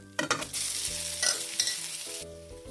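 A cauliflower and potato mixture hits hot oil with cumin, turmeric and kasuri methi, bursting into a loud sizzle with quick stirring, then settling to a steady fry over background music.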